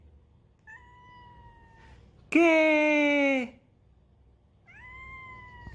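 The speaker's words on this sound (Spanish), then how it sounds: "Esta gata" A cat meows three times, near and clear: a short call, then a loud drawn-out wail, then another softer call. A brief spoken word comes between them.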